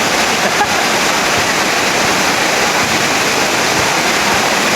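Floodwater pouring into a court during a heavy thunderstorm, a loud, steady broadband rush like a waterfall that persists unchanged throughout, with no voices.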